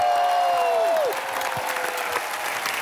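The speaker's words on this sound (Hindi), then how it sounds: "हीरोपंती की पूरी कास्ट के लिए जोरदार तालियां" Loud studio audience applause on a Hindi comedy talk show, dense clapping under a descending whistle-like tone that fades out after a second, the clapping continuing slightly quieter.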